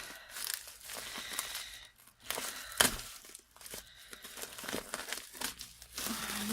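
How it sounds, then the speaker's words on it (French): Bubble wrap around an AliExpress parcel crinkles and rustles in irregular close bursts as it is pulled away, with one sharper tearing crackle partway through. "il m'a mis la dose de papier bulle"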